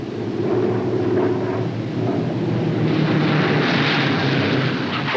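A Douglas A-26 Invader comes in to land on a runway, its piston engines producing a loud, continuous broad roar and rumble that swells slightly toward the end.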